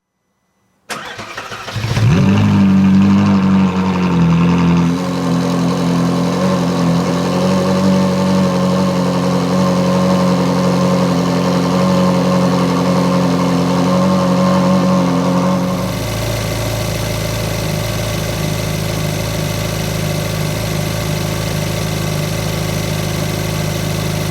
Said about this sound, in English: Letting the engine warm through like this